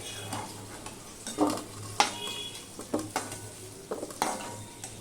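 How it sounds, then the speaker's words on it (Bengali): Potatoes frying with salt and turmeric in a pan, light sizzling under a few sharp scraping stirs and clinks of a spatula, close and moderately quiet, with no talking. "নুন হলুদ দিয়ে ভেজে নিচ্ছি নিলাম আমি"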